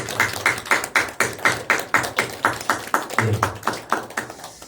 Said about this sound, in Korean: 우리 찬양의 박수, 경배의 박수, 감사의 박수 올려드립니다